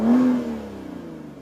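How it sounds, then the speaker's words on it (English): Aston Martin DB11 with a 5.2-liter twin-turbo V12 roars off the line, a loud close engine surge with a bright rising tone in the first half-second that then settles into a sustained rumbling pull. "the V12 can drag you from motionless to 60 miles per hour"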